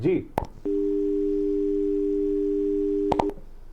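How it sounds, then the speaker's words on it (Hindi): A steady telephone tone hums for about two and a half seconds after a dropped call line, bracketed by brief clicks and bits of speech at the start and end. "फोन लाइन टूट गया, संपर्क नहीं हो पाया"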